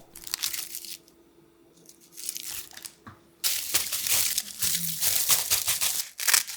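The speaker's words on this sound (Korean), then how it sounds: "김이 눅눅하지 않도록 앞뒤로 바삭바삭하게 구워주고" Thin dried laver sheets crackle and crinkle close up while toasting in a pan over low heat, in irregular bursts, with a quiet stretch early on before louder rustling resumes.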